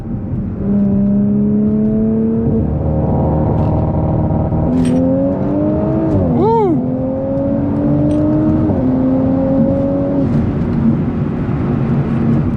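A B9.5 Audi S4 with rolling anti-lag accelerates hard from 40 mph, its engine note climbing steadily through several gear changes with a brief sharp pop mid-run, loud and close with constant road and wind roar.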